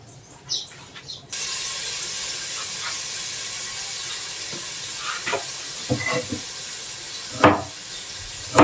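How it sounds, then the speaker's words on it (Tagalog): Water gushes steadily from a tap with a hissing rush, broken by a few clinks and knocks of handling nearby. "Kuha tayo dito ng tubig."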